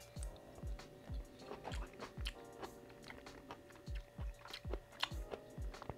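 Close, quiet chewing of pickled baby eggplant from a vegan bento, with soft crunching bites repeating in an even rhythm and no talking.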